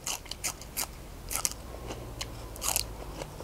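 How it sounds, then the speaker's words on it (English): Crisp crunching bites into self-blanching home-grown celery from a polytunnel, a handful of sharp snapping crunches close to the ear over a soft, muffled chewing background. "Nice and crunchy celery."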